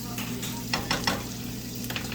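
Fish sizzles steadily in a pan on medium-low heat just after being flipped, with a constant frying hiss and a few soft clicks of stirring or utensil contact over about two seconds.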